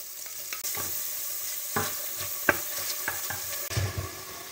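Garlic and bell pepper fry in a pan for Cuban congrís, sizzling steadily with repeated sharp scrapes and stirring knocks from a utensil against the pan.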